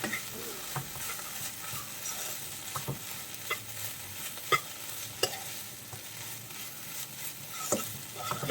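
Ivy gourd stir fry (kovakka thoran) being stirred in a pan: a faint, steady sizzle broken by light, irregular scraping taps of a spoon against the pan.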